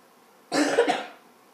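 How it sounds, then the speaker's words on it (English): A single short cough from one person, close and fairly loud, lasting under a second against a quiet room. "First cough of the day, baby."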